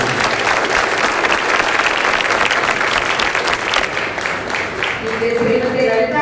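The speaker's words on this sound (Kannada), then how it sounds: "ಎಲ್ಲ ಕಲಾಭಿಮಾನಿಗಳು ಚಪ್ಪಾಳೆ ಮೂಲಕ ಅವರನ್ನು" An audience at a Yakshagana award felicitation claps in sustained, dense applause that stays loud throughout, with a voice over a public address coming in near the end.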